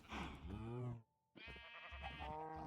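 A goat bleats in Minecraft Nightmare Craft with a wavering, nasal cry that lasts about a second. A short pause follows, then a person talks over the game sounds.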